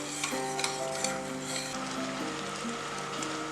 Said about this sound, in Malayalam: ഇനി നമുക്ക് നന്നായിട്ടൊന്ന് മിക്സ് ചെയ്തെടുക്കാം